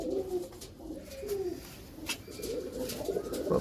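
Pigeons kept by a pigeon fancier in Punjab coo softly, with repeated low throaty calls rolling one after another over quiet background noise.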